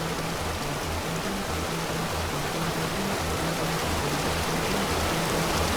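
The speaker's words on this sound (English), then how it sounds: "oh, I hear the waterfall" Steady rushing water from a video game waterfall heard from a cave, roaring evenly throughout, a dense continuous wash with a low repeating tone underneath.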